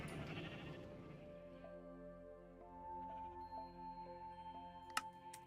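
A sheep in Minecraft bleats in a steady, drawn-out, tonal call, with electronic game-style sound. A sharp click pops out near the end.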